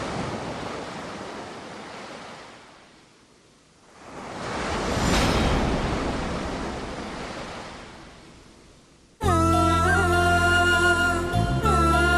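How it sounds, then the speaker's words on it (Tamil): Sea waves break and wash along the seashore, swelling loud and near, easing off, then surging again over a constant windy roar before music cuts in at the end. "கடல் ஓரத்துல எவ்வளவு நிம்மதியா இருக்குல்ல?"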